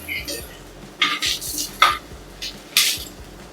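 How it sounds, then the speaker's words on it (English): Turmeric powder is stirred into golden-browned onions in a pot, giving several short scraping clinks of a metal spoon against the pan in an uneven rhythm, close and fairly loud. "To this, I'll be adding some turmeric powder. Let's add in some turmeric. Give it a quick stir."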